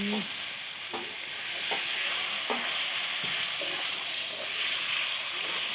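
Potatoes and cauliflower cooking in a pan with a splash of water, a constant hissing simmer under several faint knocks and scrapes of a stirring utensil spread through, no voices.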